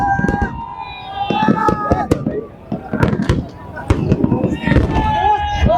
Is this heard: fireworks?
yes